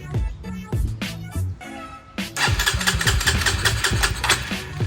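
A Honda Sonic motorcycle fitted with a CBR150 engine starts up after sitting unused for several days. Its mid-pitched engine catches and runs in a busy, rising roar that is loud and close, with no talking.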